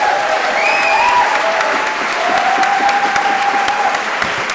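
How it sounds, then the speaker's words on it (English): Loud, sustained applause from an event audience thanking panelists after a discussion, dense continuous clapping close up with a brief high tone or whistle over it. "Let's give a big round of applause."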